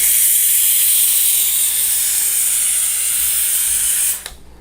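Handheld household steam cleaner running at full power, a loud, steady hiss of steam that holds for about four seconds before cutting off abruptly.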